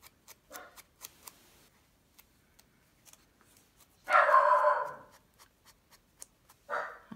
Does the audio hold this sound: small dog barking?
yes